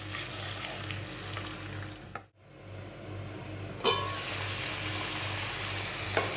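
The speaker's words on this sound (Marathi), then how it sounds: "हे बघा छानपैकी अशी फ्राय झाली आहे आपली कांदा टोमॅटोची पेस्ट, आलं लसूणची पेस्ट" Onion and tomato puree with ginger garlic paste fries in hot oil, a continuous crackling sizzle close by that drops out briefly and then returns slightly louder, with a few faint clinks and no talking.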